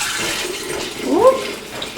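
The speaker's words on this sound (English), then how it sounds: "I'm just going to dip this up and pour it in my jars" Home-canned turkey broth is ladled and poured into jars, a brief liquid splash and gurgle with a rising pour, close and fairly loud.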